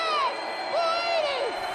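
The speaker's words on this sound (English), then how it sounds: "4th and 8 as the crowd comes to life again" A stadium crowd at a women's football game cheers in a loud, continuous swell, with high shrill whoops riding over the roar.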